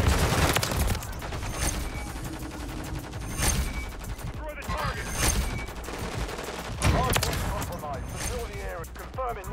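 Lockwood 680 gunfire in a Call of Duty Hardpoint match cracks out in sharp single reports every couple of seconds, mixed with game effects and a talking voice.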